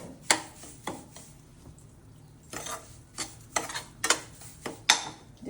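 Cashews frying in ghee while a spoon stirs and clanks against the pan, sharp irregular scrapes and knocks over a faint sizzle.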